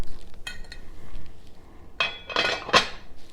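A lid goes onto a pot of cooked rice, with a soft clink early on and then a louder cluster of metallic clanks and rattles near the end.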